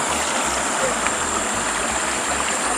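High stream water rushes in a steady, loud flow, with a faint low rhythmic thumping underneath.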